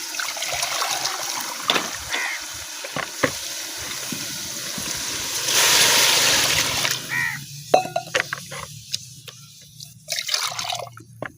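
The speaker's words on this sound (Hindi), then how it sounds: "अब इसमें ऐड करूँगी मैं पानी।" Water poured into a cooking pot of browned, roasted ingredients in a home kitchen, a broad rushing pour with splashing near the middle, among scattered drips and clinks, no talk.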